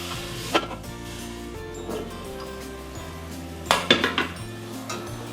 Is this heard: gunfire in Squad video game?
no